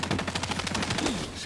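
Rapid automatic fire from an MP5 submachine gun in the XDefiant PC beta, a steady, close stream of sharp shots that continues through the whole burst.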